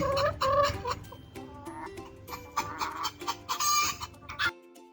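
Hens kept in a pen on part of a farm field cluck and squawk in quick, irregular bursts, close and fairly loud, with a steady musical tone underneath before everything cuts off abruptly.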